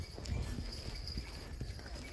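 A horse's hooves clip-clop on a ride in Kashmir, with irregular close steps at a walking pace and light background sounds.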